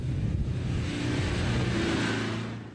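An off-road vehicle climbs a steep hill under power, its engine holding a steady, close, rumbling drone before it eases off near the end.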